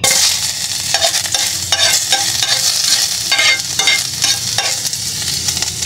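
Ginger sautés in hot oil in a pan for a Filipino field-frog dish, a steady close sizzle broken by repeated scraping stirs of a spatula.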